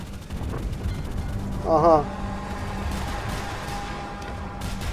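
Naval gunfire and incoming shell hits in the Roblox naval battle game Dead Ahead, a steady roar of distant cannon blasts with one louder impact swelling midway, while players talk over it.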